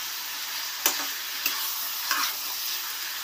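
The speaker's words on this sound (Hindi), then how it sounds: "इसको थोड़ा भून लें अच्छे से" Chicken korma masala being sautéed in a pan: a quiet background sizzle broken by three distinct spoon scrapes spaced about half a second apart.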